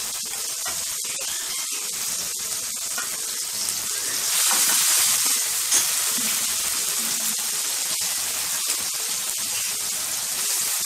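Tomato, cumin powder and chili powder fry in a pan for alu dum, giving a steady, close sizzle and hiss that swells briefly midway, with faint stirring scrapes and no talking.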